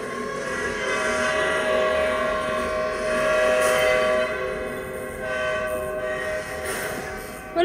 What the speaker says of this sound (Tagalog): Akala ko ba less frequently yung spawn ng train, ba't ang bilis?